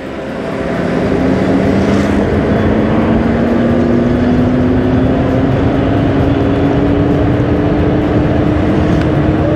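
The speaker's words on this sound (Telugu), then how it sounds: "ఇప్పుడు నేను స్పీడ్ పెంచుకుంటూ వెళ్తాను." Simple One electric scooter accelerating, its motor whine rising steadily in pitch over a constant rush of wind and road noise. The sound is close and continuous, with no talking.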